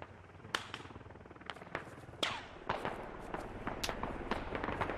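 Distant gunfire in the video game Squad, scattered sharp cracks and pops at irregular intervals, fairly faint against a quiet background.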